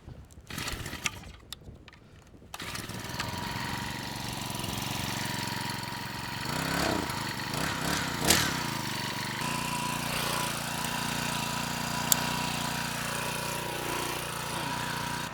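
Small weed whacker engine running under load while pulling with slings, a continuous buzzing drone that starts after some brief knocks and rises and falls slightly in pitch as the strain changes.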